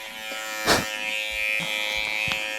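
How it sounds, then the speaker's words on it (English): A $30 electric shaver, not yet oiled, buzzes steadily while shaving a goat's fur, a close, continuous hum that shifts slightly in pitch as it moves through the coat. "And so this shaver has already shaved one goat without an oiling."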